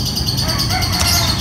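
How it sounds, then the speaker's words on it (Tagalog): Small birds, likely sparrows, chirp noisily among trees, a dense continuous twittering close by with a steady background hiss and no talk. "Mga maingay na ibon"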